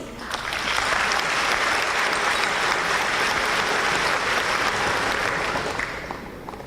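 Audience applause at a European business association dinner in Taipei, with the room clapping in a dense, even wash that swells in and tapers off at the end.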